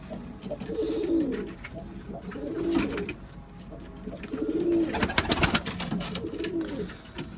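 Young pigeons coo close by in repeated, rhythmic phrases, with a burst of rustling or wing flutter midway.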